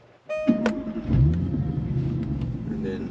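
A Jaguar XF starts up with a chime and a sudden low crank, then its engine settles into a steady nearby idle rumble with small electronic beeps layered over it.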